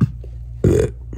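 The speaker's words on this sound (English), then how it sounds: "Wait, what was that noise? Wait, was that a snore? Or was that a burp?" A single short, loud burp erupts near the microphone after a brief quiet moment, rumbling for about a quarter second before fading into low background hum.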